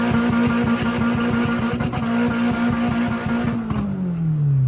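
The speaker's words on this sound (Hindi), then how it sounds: "अब गाड़ी रोड पे चला के चेक करते हैं" A K24-engined car on a road test run, its engine running loud and steady with a rapid pulsing idle-like throb that then drops in pitch as it winds down, with no voices.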